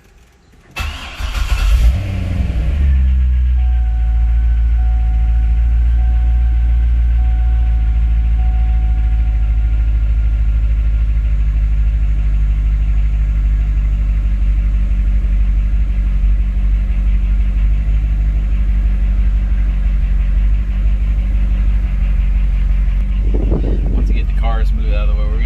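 A Chevrolet Corvette engine cranks and fires for its first start after a repair, then settles into a loud, steady, rumbling idle that holds throughout, with a brief rise in noise near the end.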